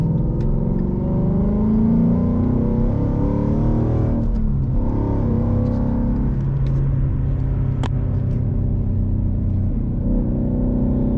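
Ford Mustang Boss 302 V8 engine pulling steadily along winding roads, a continuous loud in-cabin rumble that swells and eases with the throttle through the bends, with no talking over it.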